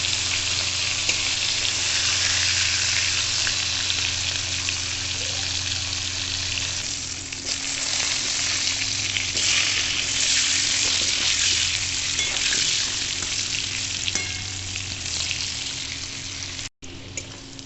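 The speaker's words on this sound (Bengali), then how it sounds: "এখন আমি চিংড়ি মাছগুলো ভালো করে ভেজে নিচ্ছি" Prawns frying in oil in a pan for a spicy prawn and potato dish, a loud, dense, continuous sizzle close up, with faint stirring beneath and one brief sharp knock near the end.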